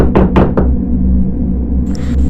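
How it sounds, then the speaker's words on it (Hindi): Three quick, heavy knocks strike a basement door in a ghost story, loud and close, followed by a low hum and a faint rustle. "ऐसी आवाज़ें आने लगीं कि जैसे उसकी बेसमेंट के दरवाजे को कोई ज़ोर ज़ोर से खटखटा रहा है"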